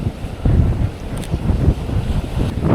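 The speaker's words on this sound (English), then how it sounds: "With the harsh waves and everything," Harsh sea waves crash and surge against the shore at Porto as a fisherman stands nearby, a continuous loud roar with rushing water bursts, heavily buffeted by wind noise on the microphone.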